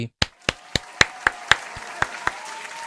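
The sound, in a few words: clapping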